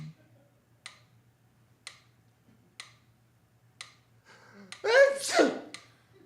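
A single sharp, close sneeze in a radio drama, following a quiet, regular clock ticking that sounds about once a second in an otherwise hushed scene.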